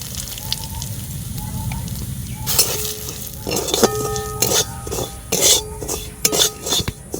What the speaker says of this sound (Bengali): হালকা করে সুজিটাকে ভেজে নেব